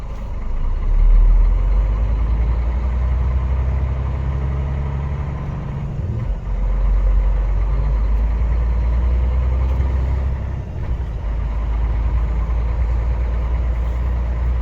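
Truck engine droning steadily while driving, a loud low rumble that dips briefly twice, with no talking over it.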